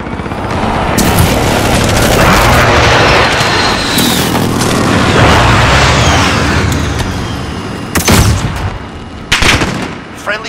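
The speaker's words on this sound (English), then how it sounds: "Allied precision airstrike incoming." Repeated loud, rumbling airstrike explosions and gunfire-like blasts from the shooter game Call of Duty: Modern Warfare, sustained through most of the stretch before two sharper blasts near the end.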